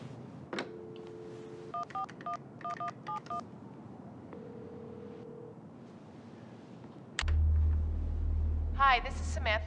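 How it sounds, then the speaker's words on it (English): A telephone number is keyed in as a rapid run of touch-tone beeps, with a steady dial tone before and a ringing tone after, clear and close on the line. "Could you get Miss Reed on the phone for us?"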